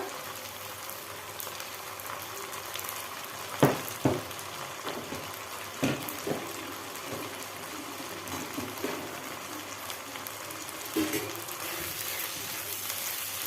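Ginger and garlic paste frying in a pan while being stirred for chicken, a steady soft sizzle with a few sharp scrapes of the spoon against the pan, no talking.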